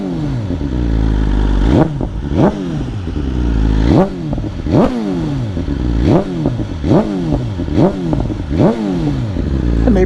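A 2021 BMW S1000RR sport bike fitted with an Akrapovic Evolution exhaust is revved repeatedly, with about eight sharp throttle blips rising and falling over a loud idle, close and alone.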